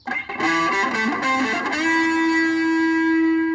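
A loud, distorted electric guitar plays a few quick chords and notes, then lets a single sustained note ring out with a buzzing, saturated edge.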